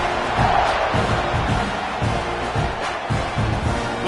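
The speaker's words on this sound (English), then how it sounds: "You think this crowd's going to get loud when their defense comes on the field?" Stadium crowd at a football game before a kickoff, a steady broad roar with rhythmic low thumps like stomping or clapping throughout, loud and continuous with no clear speech.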